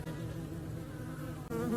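Japanese honeybees swarming into a hive box make a dense, continuous buzz, close and steady with no gaps, the drone of many wings layered together.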